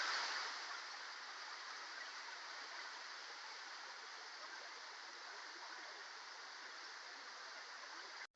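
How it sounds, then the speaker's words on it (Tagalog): Steady, broad rushing roar of a tall waterfall, about 50 meters high, falling continuously at moderate distance with an even, unbroken wash and no other sounds. "Talagang napakagandang falls ito."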